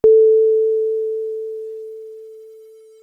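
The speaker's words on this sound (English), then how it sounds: "An ideal 9-bit DAC would sound like this on a decaying sine wave." A steady pure tone from an ideal 9-bit DAC starts abruptly and fades smoothly over about three seconds as a decaying sine wave, clean and without any other sound.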